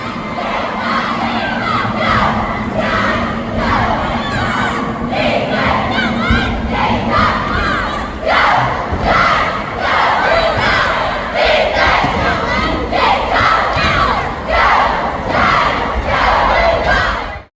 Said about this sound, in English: Get on your feet and make some noise.